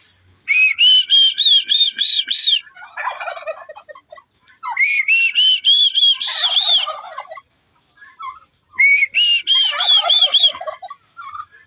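At a zoo, a person gives three runs of rapid, high whistled peeps imitating baby turkey calls, each followed by a burst of close, rough turkey gobbling in reply.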